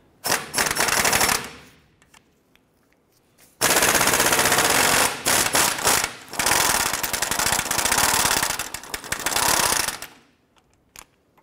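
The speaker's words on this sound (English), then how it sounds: "we're going to use our 22 millimeter socket and swivel, and we're going to go ahead and put it on the upper ball joint nut here" An impact wrench with a 22 mm socket spins off the upper ball joint nut on a 1994-2004 Chevrolet S10 front suspension, loud, close rattling bursts: a short burst, a pause, then a long hammering run broken by brief stops.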